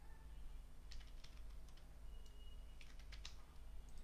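Quiet keystrokes on a computer keyboard while entering data in an Excel spreadsheet, small scattered clusters of soft clicks over a low room hum, faint and with no talking.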